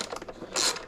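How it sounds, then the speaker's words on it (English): A ratchet fitted with an 8mm socket turns a panel bolt on a 2017–2021 Kawasaki Ninja 650 KRT, giving a quick run of close, small mechanical clicks followed by a brief metallic rasp. "to get this panel off you need an 8mm socket."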